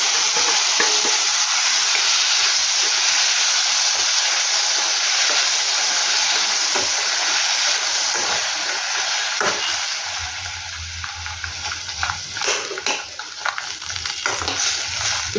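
Three chopped tomatoes frying in a pan for a chutney, a steady loud sizzle and hiss with occasional stirring scrapes, fading slightly toward the end.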